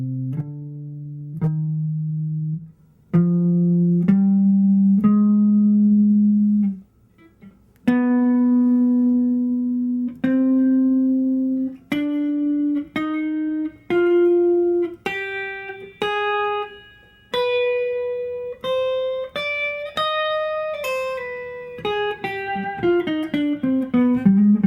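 An electric guitar plays a C harmonic minor scale as clear single notes, rising and then running faster toward the end, with a clean sustained tone and no voices.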